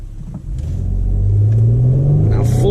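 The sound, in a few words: 2005 Toyota Highlander V6 accelerating at full throttle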